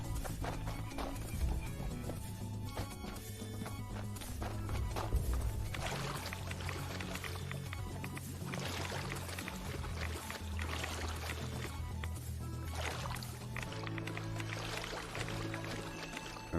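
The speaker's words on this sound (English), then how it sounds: "I'm going to curve back down around and collect some of this dirty water." Dirty water being collected in the Fallout 76 game, heard as a steady pouring, splashing wash of liquid that runs continuously for the whole stretch, with faint background music underneath.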